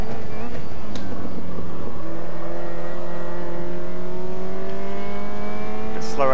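A Caterham Superlight in the Automobilista 2 racing game, its engine note dropping and downshifting under braking at Cadwell Park, then climbing again, loud and constant in a close onboard view.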